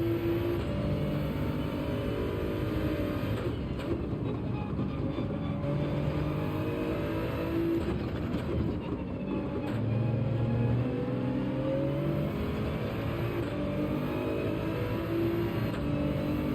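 Toyota Supra race car in Gran Turismo 7 at Road Atlanta, its engine holding a steady mid-pitched drone with rising revs throughout, loud and continuous with no voices.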